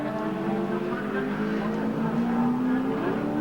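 Touring race cars, among them a Holden Commodore, roar past through a sweeping bend at a circuit, loud engine notes rising in pitch and overlapping continuously with a steady drone of motor noise.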